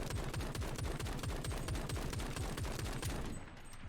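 A weapon fires in the online shooter game Shatterline, a rapid, evenly spaced stream of loud gunshots that cuts off just before the end.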